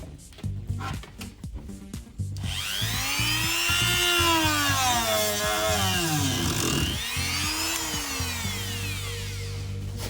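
A Dremel rotary tool whines at high speed while working on a wooden mini DDR arcade cabinet, its pitch rising and dipping under load, preceded by a few quick knocks and taps.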